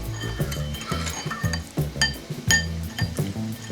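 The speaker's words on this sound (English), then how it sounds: "my coconut mayonnaise, soy sauce. I'm gonna mix that well." A spoon mixes coconut mayonnaise and soy sauce in a bowl for a ground beef stir-fry, with steady rhythmic clinking and scraping close by and a low hum beneath it.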